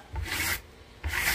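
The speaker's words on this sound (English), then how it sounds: "I'm just going to scrape to polish it." Metallic plaster on a wall being scraped smooth to polish it: two brisk, rasping strokes close by, each lasting about half a second, with a short gap between them.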